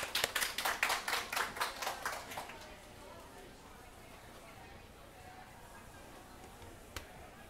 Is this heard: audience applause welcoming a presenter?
yes